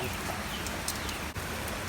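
Light rain falling outdoors after an overnight drizzle, a steady close hiss of drops with a few faint bird calls in the background.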